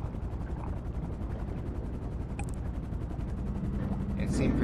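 Helicopter rotor chop in GTA V, a steady loud thumping drone throughout with brief bursts of gunfire, while voices talk over it.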